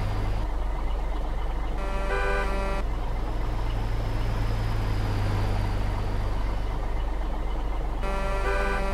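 Cars pass along a road in a driving video game over a constant low engine hum, with short bursts of synthetic horn-like tones near the start and end.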